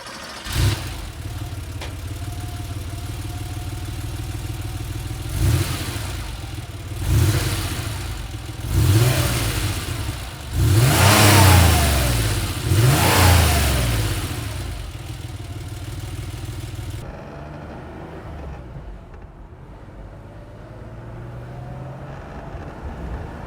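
Air-cooled flat-six of a 1987 Porsche 911 Carrera Targa idling, then revved several times in quick rising bursts before settling back to a steady idle, close and loud with no talk.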